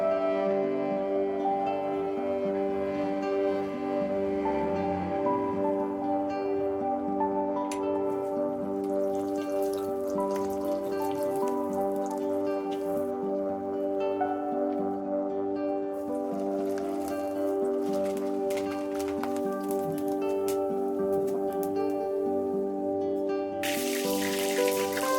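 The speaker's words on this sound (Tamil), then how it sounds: "இந்த மாதிரி நீங்கள் பொரித்து எடுத்துக்கோங்க" Flattened rice (aval) fries in hot oil for a spicy Tamil snack mix, a steady dense sizzle and crackle close by that holds evenly throughout under a faint tonal hum, with no talking.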